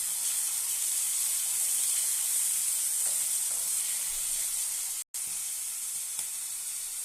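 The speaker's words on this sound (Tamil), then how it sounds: "வதங்கின பின்னாடி நான் எடுத்து வச்ச இந்த மணத்தக்காளி விதையை இதில் நான் சேர்க்குறேன்" Manathakkali seeds sauté in a pan, giving a steady, close sizzling hiss throughout with faint stirring scrapes and a brief dropout near the end.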